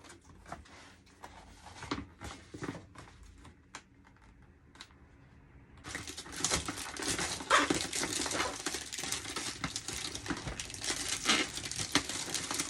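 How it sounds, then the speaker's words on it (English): Plastic film is peeled off the back of foamboard, starting with sparse crinkles and taps, then turning into a continuous loud crackling rustle for the second half, close by. "I'm going to start grabbing the plastic from the back"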